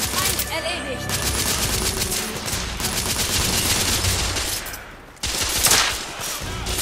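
Gunfire in the video game The Order: 1886, with rapid automatic bursts rattling on and off at a moderate distance and a brief pause before shots resume, layered with game sound effects.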